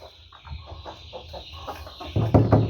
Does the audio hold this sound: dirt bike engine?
no